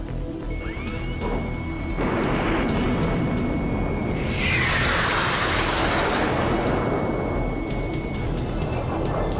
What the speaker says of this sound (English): Objective complete. Missile hit.